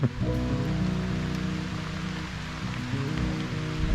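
Steady rain patters down continuously on an off-grid garden, a dense wash of drops on surfaces with a low rumble beneath, no voices.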